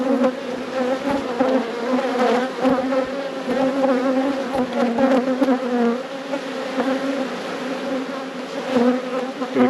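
Honey bees swarm around a hive during a robbing event, a dense, continuous buzzing of many insects close by, steady and loud throughout with small swells, no voices.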